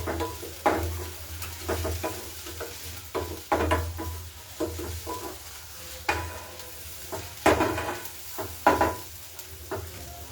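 Onion and garlic fry in butter for a garlic butter mushroom dish, a steady close sizzle under repeated stirring scrapes and clinks of a spatula in the pan.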